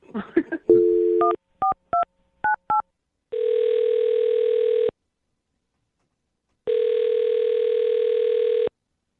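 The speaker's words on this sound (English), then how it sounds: "I'm going to dial his phone number right now" A few short touch-tone beeps in quick succession as a phone number is dialed, then two long steady telephone ringback tones separated by silence, like a call ringing out.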